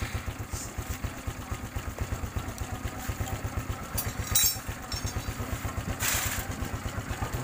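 A Honda Supra X 125 injection motorcycle engine idles with a steady, rapid low thump and a slight mechanical clatter, running close and continuous with faint hissy background noise.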